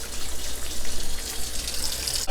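Water runs steadily into a pot of simmering Jamaican curry goat, a continuous close splashing pour for a couple of seconds.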